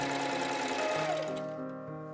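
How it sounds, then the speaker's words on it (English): A sewing machine stitches twill tape onto a ring, whirring steadily and close, then slowing and winding down toward the end. "I sewed the other flat piece of tape to the ring along both long edges, being careful to stitch as close to the edge as possible."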